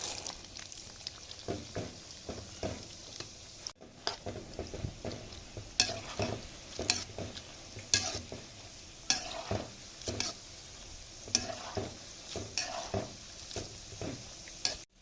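Cashews and raisins fry in ghee in a pan for a large batch of sweet Pongal, with a soft steady sizzle broken by repeated rhythmic scrapes and clinks of a spoon stirring against the metal.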